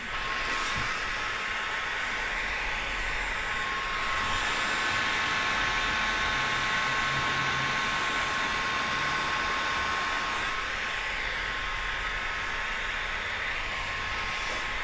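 A heat gun blows steadily over paint protection film on a 2023 Acura RDX hood, a continuous airy whoosh with slight swells in strength and no talk.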